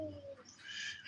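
A man imitates the call of an owl in his yard with a short, faint hooting coo that slides from a low hoot into a higher breathy tone.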